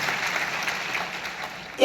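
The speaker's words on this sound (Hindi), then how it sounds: "जोरदार तालियां गोपी के लिए।" An audience at a seminar in Lucknow bursts into a short burst of steady applause, a dense wash of clapping lasting under two seconds.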